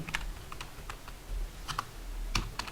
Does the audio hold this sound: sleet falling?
no